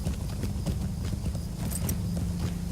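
In a video game, a horse's hooves clop rapidly up a stone stairway, a close, brisk run of hoofbeats with a brief whinny-like accent partway through.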